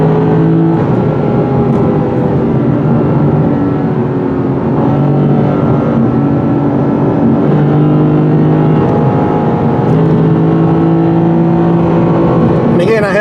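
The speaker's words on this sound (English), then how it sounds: "This V8 loves to rev at high RPM, comes in handy when you're climbing these steep grades." Sustained droning engine note from a V8 sports car, either a 2019 Lexus RC-F or Ford Mustang Bullitt, climbing a steep grade with pitch shifting through gears, loud and steady under someone talking.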